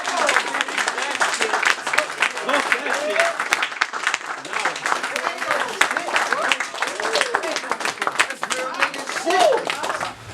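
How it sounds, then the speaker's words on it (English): A poetry-event audience claps and applauds in a dense, sustained burst of many hands, loud and close, with cheering and shouting voices mixed in throughout. "Clap it up for this motherfucker right here"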